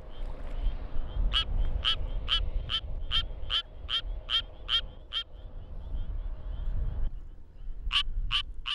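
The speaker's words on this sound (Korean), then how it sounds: "드디어 수원 청개구리의 노래가 시작됐다." A Suwon tree frog calls in a steady run of about a dozen sharp, evenly spaced metallic notes. After a pause another burst starts over low background rumble, close and clear.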